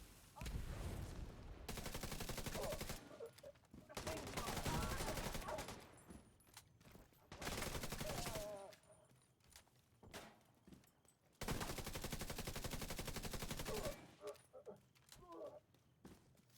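Gunfire from the video game The Division 2 comes in several long, loud automatic bursts separated by short gaps, with quieter clicks and game sounds between the volleys.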